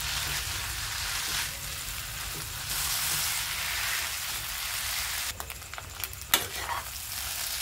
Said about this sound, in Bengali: তো আমি এইগুলা ভালোভাবে মিশাই নিব নুডলসের সাথে।